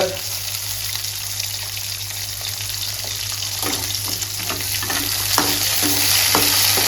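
Small shallots sauté in hot oil for a Tamil herbal vatha kuzhambu, a steady close sizzle broken by occasional scrapes and stirring clicks of a spoon in the pan.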